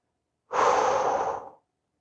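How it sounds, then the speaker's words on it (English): A single long exhale during a vinyasa yoga flow, a breathy rush of air lasting about a second, close and clear against silence. "Breathing."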